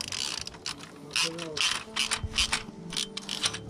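A ratchet clicks in quick bursts as it tightens a bolt on a frame protector being fitted to a KTM 1290 Super Duke R motorcycle. The close, rapid pawl clicks come in several short runs with small pauses between them.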